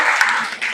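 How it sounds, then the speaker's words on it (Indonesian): A classroom audience applauding a student group after a presentation, a brief dense burst of clapping at close range. "Tepuk tangan dulu untuk kelompoknya"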